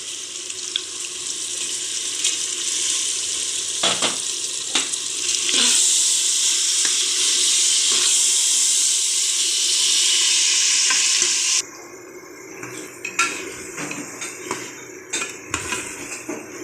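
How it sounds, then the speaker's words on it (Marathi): Soaked whole masoor lentils frying in hot oil in a pan, a loud steady hiss and crackle for most of the time, then a sudden drop to quieter bubbling with occasional clinks of a utensil. "आता आपण मसूर चांगलं तेलामध्ये फ्राय करून घेतलं आहे"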